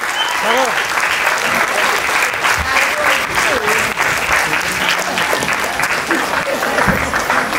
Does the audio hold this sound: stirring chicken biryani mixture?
no